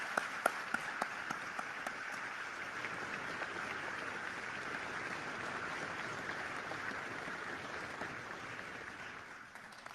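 Audience at a United States Strategic Command change of command ceremony applauds, a dense, sustained crowd clapping with a few sharper individual claps at the start, fading slightly at the end.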